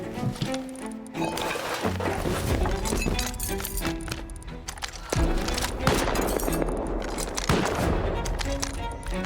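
Gunfire during a raid on a desert military bunker in Rust, a rapid fusillade of sharp cracking shots in repeated bursts, fairly close and continuous throughout, with little talk.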